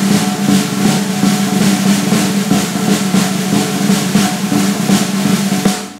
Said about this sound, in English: I'm going to buzz the whole, all the notes